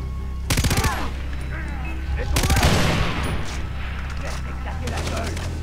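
Automatic weapon fire in the video game Far Cry 3, two short, loud, rapid bursts followed by a later flurry of quick shots, over a low steady game hum with faint scattered effects and someone speaking French.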